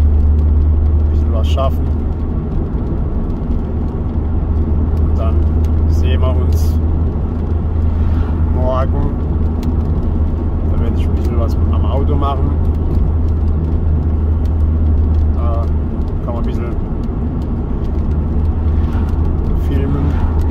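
An Opel Calibra drives slowly into a garden, its steady low engine rumble running throughout beneath continuous casual talk from the driver.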